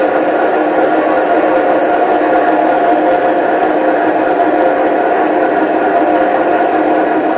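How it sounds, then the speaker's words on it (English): A steady rumbling hum of a model train running continuously on a layout at close range, with a constant rolling drone and no voices. "Trains coming through the yard, approaching the yard."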